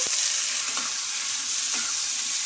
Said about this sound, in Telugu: ఇందులోకి ఒక రెండు రెమ్మల దాకా కరివేపాకును కూడా వేసుకుంటున్నాను అలాగే చిన్నగా కట్ చేసుకుని ఈ టమోటా ముక్కలు కూడా ఇందులోకి వేసుకోవాలి